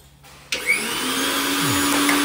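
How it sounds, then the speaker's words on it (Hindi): An electric mixer grinder switches on with a sharp jolt and keeps running as a steady, loud, high motor whine, close by and alone, with no talk. "मिक्सी बिल्कुल ठीक है, हमने चला के देख लिया"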